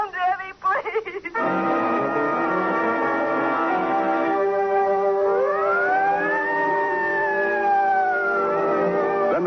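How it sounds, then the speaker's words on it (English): City sirens howl through a noir radio drama, rising and falling in long, loud wailing sweeps after a brief opening of sustained tones. "Then the sirens howl because the man is dead, and their cry tears a path through the wilderness of the city"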